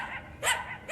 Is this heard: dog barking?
yes